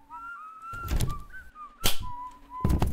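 Whistled tones from the Baldi's Basics video game, a thin melodic line wavering up and down across the clip, interrupted by louder game thuds and clatter.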